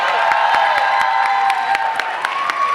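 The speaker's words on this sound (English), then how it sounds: "another round of applause for Leslie Stahl" Applause at the Posse gala, a steady roomful of clapping at a fairly loud level, with a sustained tone running underneath and no talking over it.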